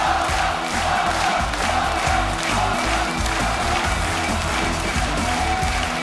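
A large crowd at a StarCraft 2 esports match, a WCS Premier League quarterfinal, roars loudly and steadily throughout, a dense continuous wall of cheering.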